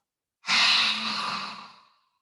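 A single deep exhale during a yoga practice, a breathy airy rush that starts abruptly, stays strong, then fades over about a second and a half, close and alone.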